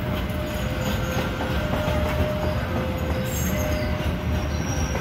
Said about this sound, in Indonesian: kereta api lokal